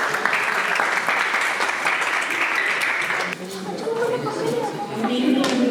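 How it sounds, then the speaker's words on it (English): An audience at a children's Christmas event in Doncaster claps in a loud, sustained burst for about three seconds, then the applause fades and a voice begins speaking over scattered crowd noise. "Can we have a round of applause for him again, please?"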